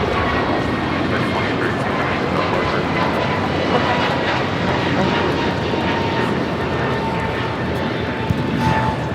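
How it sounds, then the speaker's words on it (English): An American Airlines Airbus A321neo takes off at LAX, its engines giving a loud, sustained roar that stays strong and steady throughout. "This is American Airlines Flight 2832 taking off to Philly on the A321neo."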